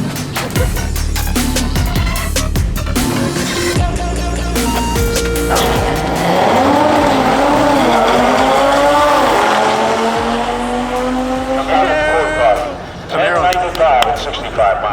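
Race cars at a street-racing meet, including a Chevy Camaro SS, roar by with loud rising engine revs and sharp tire squeals, close and harsh, while people shout and talk over it.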